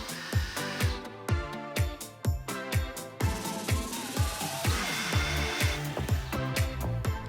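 Screws are driven to fix an IKEA Trofast wall storage unit to its support, heard as a rapid series of sharp, rhythmic mechanical bursts close up with no talk.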